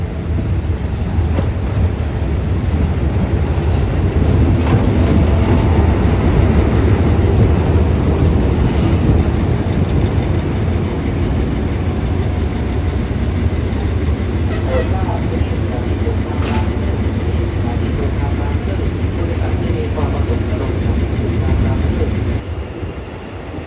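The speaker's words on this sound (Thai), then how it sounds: "ขบวนรถจอดเทียบอยู่ชานชาที่3นะครับ" Thai ordinary passenger train 234 from Surin at Bang Sue Junction, a loud, steady low diesel rumble from a locomotive standing close by at the platform, continuous throughout with faint metallic clanks and someone talking over it.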